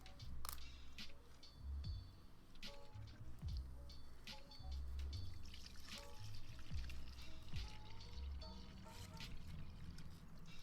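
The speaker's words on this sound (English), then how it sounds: "Why is someone like filling up a water bottle in this song?" Water pouring into a bottle, a steady trickling, gurgling stream with faint music underneath, continuous and fairly quiet.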